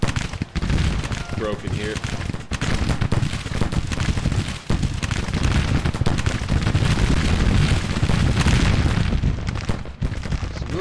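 Scattered rifle volleys and booming cannon blasts from a war strategy video game, a dense, continuous battle din with repeated sharp cracks and thuds. Someone talks over it at times.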